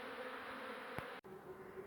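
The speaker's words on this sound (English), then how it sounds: "So now it's going to get loud because I'll be bee-vacking." A bee vacuum sucks bees off a bathroom window during a beehive relocation, giving a steady loud droning whoosh with bright buzzing, one short thump near the middle and a brief dropout just after.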